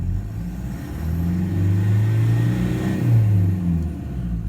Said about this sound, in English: The engine's humming.